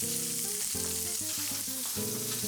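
Fish sizzles in a hot pan, a soft, constant frying hiss running beneath louder melodic music.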